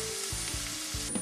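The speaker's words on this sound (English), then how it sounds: "So you're frying the carrots now." Carrots frying in a hot pan give off a steady, soft sizzle with faint rhythmic stirring scrapes beneath it.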